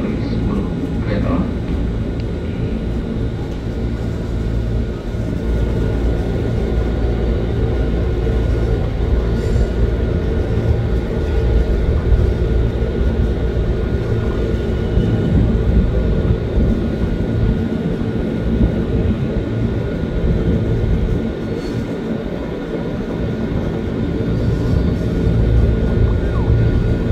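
Low rumbling of a KRL commuter electric train at Jakarta Kota station, a steady broad drone that holds throughout with station ambience and faint voices underneath.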